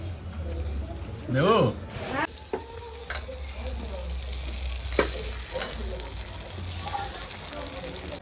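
Whole flower fritters sizzle steadily in hot oil while being stirred, a continuous close frying hiss with occasional spoon scrapes, and a brief voice is heard early on.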